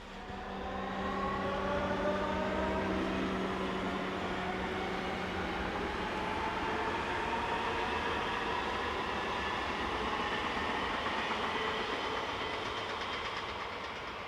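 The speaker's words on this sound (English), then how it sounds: "Our two Class 425 units will now depart north, bound for München-Gladbach" A pair of Class 425 electric multiple units pull away from a German station, a steady rolling rumble with rising motor whine tones, sustained and fairly distant, with no talking.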